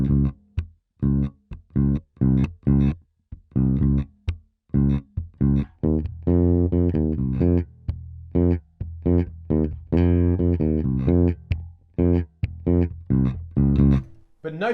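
A 5-string electric bass plays a verse groove: short, punchy low notes in a steady syncopated rhythm, with some longer sustained phrases, close and clear with no other instruments.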